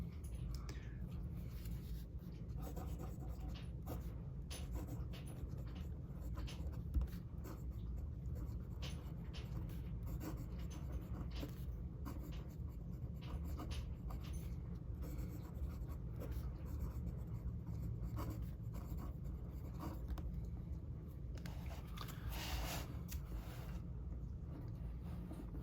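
Pelikan Souverän M800 fountain pen with a very large nib writing on paper, a faint continuous scratching and gliding close up over low room hum, with small strokes and pauses throughout.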